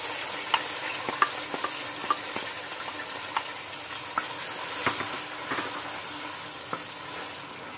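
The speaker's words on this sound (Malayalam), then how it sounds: "അപ്പം ഇതിലേക്ക് നമുക്ക് ഈ പഴം ഇട്ടിട്ട് ജസ്റ്റ് ഒന്ന് ചൂടാക്കിയാൽ മതി." Ripe banana sautéing in ghee in a pan with toasted coconut pieces, a soft continuous sizzle broken by scattered light clicks of a spoon, fairly quiet and close.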